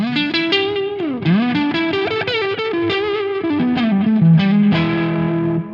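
Electric guitar through a Xotic overdrive pedal plays a lively lead line with bends and slides over chords, gritty, mid-heavy and fairly loud, with no voices.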